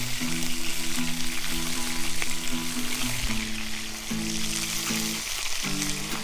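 Elk steak sizzles over a campfire in a steady, loud crackling fry that runs continuously for several seconds, with a melodic background tone playing underneath.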